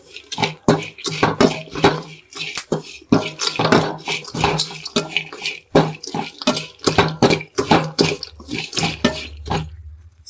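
Fried peanuts and salt being stirred into a field bean (avarekalu) snack in a bowl, a rhythmic series of close clinking, scraping strokes of a spoon against the vessel, steady and fairly loud with no talk.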